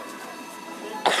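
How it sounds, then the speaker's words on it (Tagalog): A single sharp cough bursts out near the end, close and loud, after a stretch of quiet background noise in a grocery store. "Grabe ubo ko ah."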